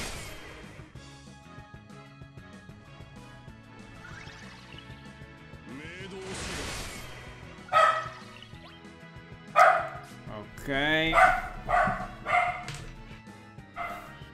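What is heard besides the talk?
dog barking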